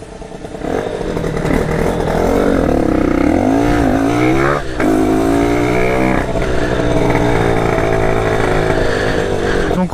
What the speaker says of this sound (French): comme ça peut se voir, la moto elle tourne